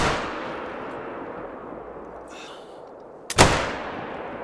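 Single sharp crack from a bolt-action rifle in theHunter: Call of the Wild, loud and sudden after quiet outdoor ambience, followed by a brief rolling echo.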